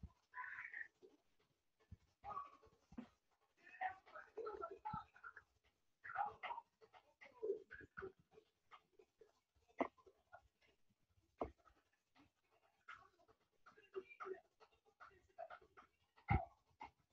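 Several dogs pant and whimper close by in an otherwise quiet room, with short scuffling sounds and irregular breathy bursts recurring throughout.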